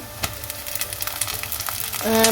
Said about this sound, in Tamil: இது தக்காளி நல்லா வதங்கணும்